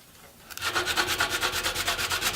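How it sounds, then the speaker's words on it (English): Rhythmic rasping strokes on Sonowood while shaping a guitar bridge, a steady back-and-forth scrape at close range, starting after a brief quiet moment. "it's quite hard to work with a rasp."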